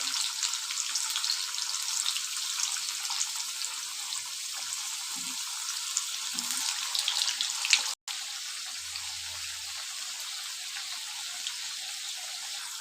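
Potato pieces frying in hot oil in a pan, giving a steady, broad sizzle that runs without a break for most of the stretch, with a brief interruption near the end.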